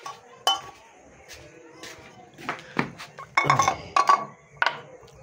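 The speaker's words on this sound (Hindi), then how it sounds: "यहाँ से ये कप उठा लेते हैं, थोड़ा साफ कर देता हूँ।" A cup is picked up and handled among dishes in a home kitchen, with scattered clinks and knocks of ceramic and metal, a cluster of louder rattles near the end, and quiet talk in between.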